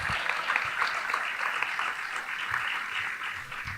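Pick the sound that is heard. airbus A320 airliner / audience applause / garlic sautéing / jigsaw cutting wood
audience applause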